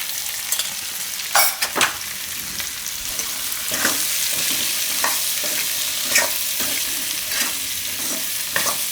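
Potatoes and green beans fry in a pan with turmeric and coriander-cumin powder, a steady close sizzle broken by spoon scrapes and stirring clinks at irregular intervals.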